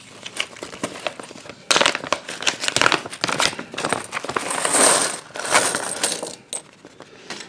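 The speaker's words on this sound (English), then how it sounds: "nice heavy duty plastic bags" Heavy-duty plastic bags holding a coin collection are handled and crinkled up close, with loud, dense rustling and crackling and small metallic clinks in irregular bursts, and no one speaking.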